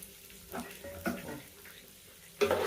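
Onions dropped into a hot pan, sizzling softly with a few brief bursts of frying and a louder crackle near the end, no voices.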